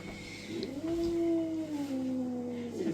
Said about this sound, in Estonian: Kassikesed.